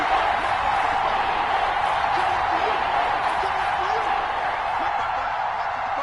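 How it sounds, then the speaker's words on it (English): A football stadium crowd roars ahead of a big third down, a dense, steady wash of cheering and noise that holds at a constant level throughout with no single voice standing out. "the crowd getting into it as we come up on a big 3rd down"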